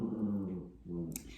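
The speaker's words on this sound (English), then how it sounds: "I don't know if you can hear the dogs too, but they're kind of like wrestling in the background." Low dog growls and grumbles rumble close by in two stretches, like dogs play-fighting, ending with a sharp yip.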